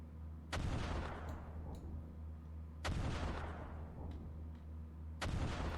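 Anti-aircraft artillery firing in the Command: Modern Operations video game, three heavy booming bursts a couple of seconds apart, each fading into a rumbling tail over a steady low hum.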